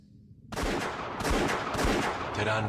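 Gunshots ring out in a documentary about Che Guevara: after a quiet moment, several sharp, loud reports fire in rapid succession with echoing tails, followed by a short fading tone.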